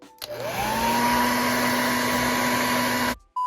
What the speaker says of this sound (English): the hairdryer has always worked better for me